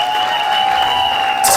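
Wedding guests at a customary ceremony break into applause, a dense steady wash of clapping with a few cheers for the cooking family, loud and sustained throughout.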